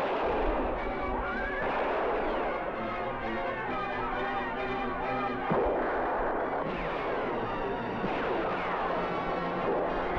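Repeated gunshots from the Western video game Deadwood crack over a dense, continuous bed of game music and ambience, with a sharp shot near the middle standing out from the mix.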